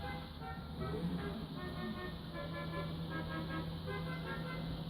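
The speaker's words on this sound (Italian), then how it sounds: "Non mi ricordo di aver messo questo clacson" A car horn sounds in a driving video game, several short honks blaring over a steady engine hum, close and fairly loud.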